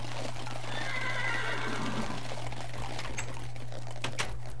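A horse whinnies in modded Minecraft 1.7.10, its neigh rising over a steady low hum, followed by a few sharp clicking taps.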